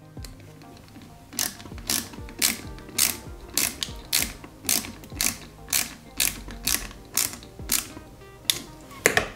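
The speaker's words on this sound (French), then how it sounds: "on va la fixer arrière avec une vis" A screw is driven into the rear of a 1/8 scale Ford Gran Torino model kit, a steady series of sharp ratcheting clicks from the screwdriver, close and distinct with no talking.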